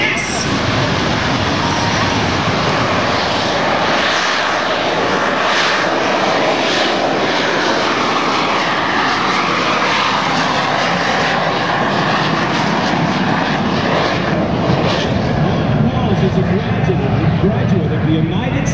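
A Harrier jump jet's engine roars steadily at an air show, pointed into the wind ahead of a vertical takeoff, a loud continuous broadband rumble and whine holding for the full stretch with no break.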